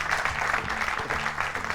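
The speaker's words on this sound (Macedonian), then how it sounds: "Аплауз за Славе од Василево." Audience applause, a short burst of dense, steady clapping heard up close.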